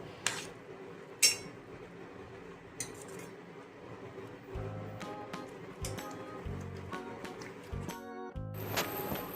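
Pav bhaji vegetables being stirred and sautéed in a pan: a spatula scrapes and clinks against the metal with soft squishing, set against a low background hiss and a few sharper taps.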